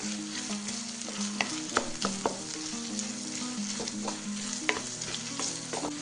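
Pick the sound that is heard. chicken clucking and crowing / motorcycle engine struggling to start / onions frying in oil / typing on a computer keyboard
onions frying in oil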